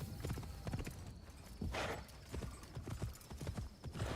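Horse hooves clip-clopping on the ground in Assassin's Creed Shadows, a steady walking rhythm of close, distinct hoofbeats with faint ambient noise.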